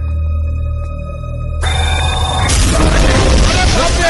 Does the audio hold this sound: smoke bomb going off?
yes